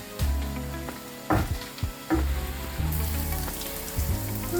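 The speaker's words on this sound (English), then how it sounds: "I'm just going to fry this bacon up until it's nice and crispy" Bacon fries in a pan until crispy, giving a steady loud sizzle and crackle with a few brief knocks and stirring sounds along the way.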